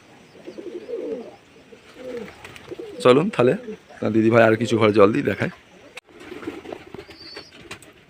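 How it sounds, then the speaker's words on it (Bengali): Pigeons from a flock of about a hundred coo softly in their loft beneath someone speaking Bengali close by, the throaty calls mostly mingled with his talk. "আমাদের পায়রা আছে প্রায় মোটামুটি হ্যাঁ একশোর মতো পায়রা আছে আমাদের"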